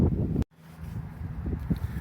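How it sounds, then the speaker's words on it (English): Wind buffets a microphone outdoors in heavy, low rumbling gusts, cutting out briefly before the blustery roar returns with uneven surges. "it is windy out here"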